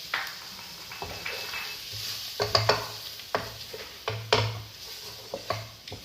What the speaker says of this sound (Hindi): अब मैं इस जगह पे आके इसके अंदर अपना मैदा ऐड करूँगी और मैदे को थोड़ा सा हम फ्राई करेंगे